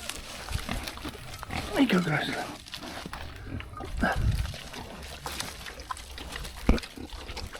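Pigs grunt and snuffle near a swim pond, low rough oinks rising in a couple of bursts amid splashing, while a person talks to them over the sounds.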